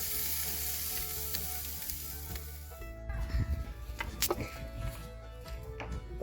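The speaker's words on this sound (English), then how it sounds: "We're just going to let them sizzle away." Burger patties sizzling and crackling over direct heat on a grill, a steady hiss with popping bursts and occasional scraping, close and moderately loud.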